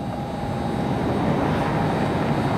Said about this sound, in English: This Airbus A320.